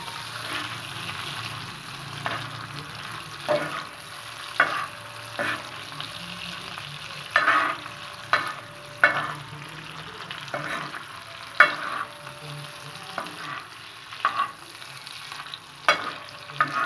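Mutton or beef liver fries on a hot tawa with a constant close sizzle, broken by frequent scraping and tapping as a spatula stirs the pieces.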